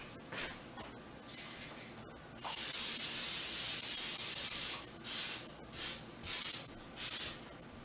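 Short hissing bursts of aerosol cooking spray into a baking pan, a few light puffs and then one long spray followed by four quick sprays, close and clear.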